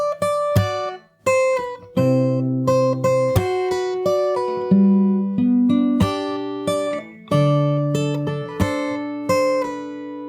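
Close, clear fingerstyle acoustic guitar plays a song from the beginning, a steady run of plucked bass notes and melody picked together, with brief gaps between phrases and no voice.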